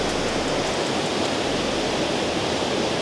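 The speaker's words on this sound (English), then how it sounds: "the waterfall here is really loud" A loud, steady rush of falling water from a waterfall in Bergen, Norway, at night in rain, roars without pause, close and dense, with no voices.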